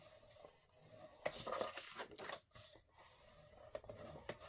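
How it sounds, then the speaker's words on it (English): Scored paper cardstock is folded and burnished, giving soft rubbing and rasping strokes in uneven bursts, close by and quiet. "I'm going to fold, burnish"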